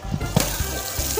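Water splashes and gushes steadily across a doorway as it is washed down, a close, continuous wet rushing with a few louder slaps.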